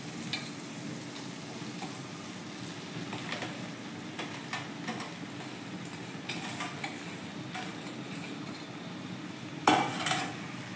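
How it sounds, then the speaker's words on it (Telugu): Puffed rice with salt being stirred in a pan after frying, soft continuous rustling and light scraping with occasional metallic clicks of the spoon, close and fairly quiet, with one sharper clink near the end. "ఇలా వేసి ఇంకా మొత్తం కలిసేదాకా బాగా కలుపుకోవాలి"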